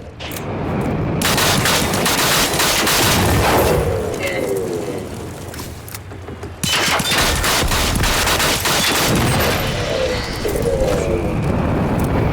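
Sustained rapid gunfire from a magazine-fed weapon in the video game Generation Zero: dense, loud, continuous shots with booming echoes, briefly easing before resuming at full intensity.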